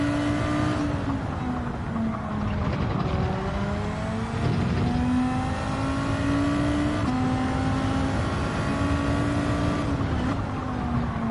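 A Group 2 race car engine in a racing video game at Brands Hatch drones loudly and continuously, its pitch climbing steadily and dropping briefly at each gear change, with no talk over it.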